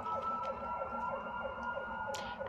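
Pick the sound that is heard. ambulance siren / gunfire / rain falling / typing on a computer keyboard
ambulance siren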